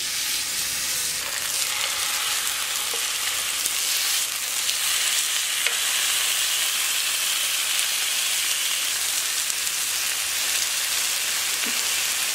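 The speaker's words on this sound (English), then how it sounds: "So we just put all the dry rubs on our pork chop, and we're about to grill it with some olive oil." Pork chop with a dry rub sizzling in olive oil on a hot grill, a loud, steady, dense crackle and hiss running unbroken, with occasional sharper pops.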